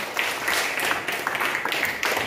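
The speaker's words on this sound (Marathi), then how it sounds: "टाळ्या वाजवा सर्वांनी." Schoolchildren in a classroom clap together for a classmate's correct quiz answer, a brisk, continuous patter of many small hands, close and fairly loud, lasting a couple of seconds without speech.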